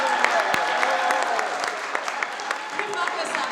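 Theatre audience at a Black History Month event gives warm applause to Pierre-Richard Thomas, a full steady clatter of many hands with scattered sharp claps standing out and some voices beneath.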